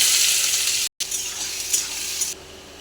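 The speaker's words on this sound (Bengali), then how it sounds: "এবার দিব পেঁয়াজ" Onions sizzle loudly in hot oil in a wok, a steady bright hiss, broken once by a brief silent gap and then quieting near the end, with no one speaking.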